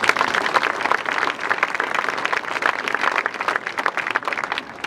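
A crowd at a fall sports kick-off applauds the high school golf team, dense steady clapping from many hands that holds evenly throughout and fades slightly at the end.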